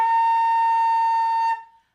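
A flute holds one steady tuning note pitched slightly sharp, close and clear for about a second and a half before stopping, with no voices.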